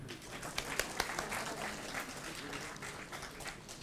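An audience at a book release ceremony in Bengaluru breaks into applause, a dense patter of many hands clapping for a few seconds. It sounds faint and somewhat distant in the hall.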